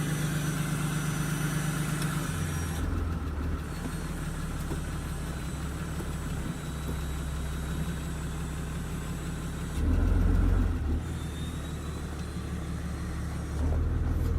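2nd Gen Cummins diesel truck with exhaust stacks idling nearby, a steady deep rumble with brief louder revs swelling twice, no talking over it.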